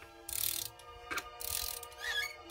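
Ratchet wrench torquing spark plugs on a Ford Crown Victoria, with three bursts of quick clicking separated by brief pauses, close and fairly quiet.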